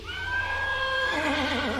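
A horse whinnies once, a long, wavering neigh that rises and then trembles downward, close and clear.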